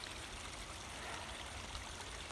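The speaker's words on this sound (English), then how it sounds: "little waterfall you can hear back in there." A small waterfall trickles and splashes steadily in the background, a soft, continuous watery hiss with no voices.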